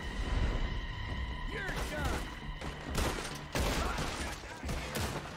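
Gunfire at a seaside poker game: bursts of shots crack out in a rapid volley over shouting voices, loud and close, with a brief lull before more rounds.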